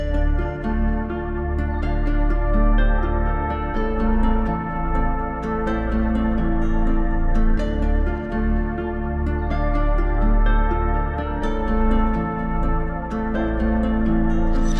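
A dark, moody guitar sample loops in FL Studio alongside a counter-melody layer, steady and full, playing continuously without any voices.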